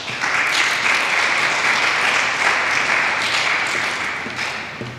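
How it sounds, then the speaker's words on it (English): Audience at a school awards ceremony for an essay, oratory, poster and performing arts competition gives a full, steady round of applause that holds for several seconds before tapering off. "can we get another round of applause for Mrs. Henry, please?"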